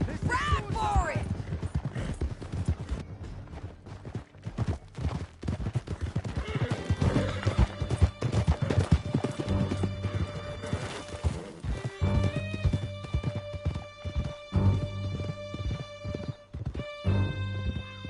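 Horses gallop and whinny in a video game canyon chase, hoofbeats clattering under music and occasional crashes, with voices speaking over the action at moderate volume.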